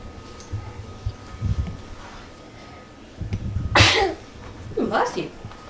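A sharp sneeze bursts out near the microphone, followed a second later by another softer sneeze, over a quiet room hum with faint low thumps.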